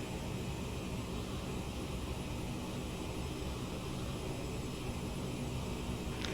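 Steady broadband roar of a CRJ 900 airliner's engines in a flight simulator game, a constant whooshing drone that holds even and loud throughout with no talk.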